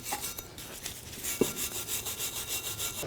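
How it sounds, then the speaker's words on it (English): A wire brush scrubs rust off the brake caliper bracket of a 2007-14 GMC Sierra 3500HD in quick, steady rasping strokes, fairly faint and close, with one sharper scrape midway. "Take a wire brush,"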